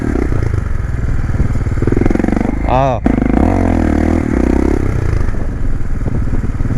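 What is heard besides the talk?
jerky motorcycle braking in coaster, tac tac tac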